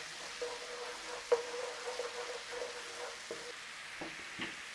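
Garlic and ginger fry gently in a pan for a spinach and red lentil curry, a soft, quiet sizzle heard alone, with a few light clicks and knocks scattered through.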